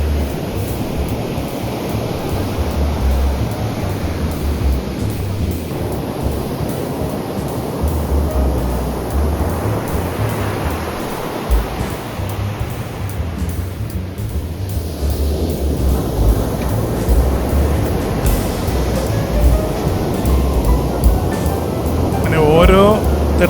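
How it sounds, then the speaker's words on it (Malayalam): Calm sea waves on Vettukad Beach in Trivandrum, on a sunny day, break and wash up the shore in a continuous surging hiss that swells and eases in slow, repeated rolls. "ഓരോ തിരമാലകൾ ഇങ്ങനെ വന്നുകൊണ്ടിരിക്കുകയാണ്. ഒരെണ്ണം വന്ന് ഇവിടെ നമ്മുടെ കരയിലടിച്ച് തകർന്ന് പതിയെ പിന്നോട്ട് പോകുമ്പോഴും"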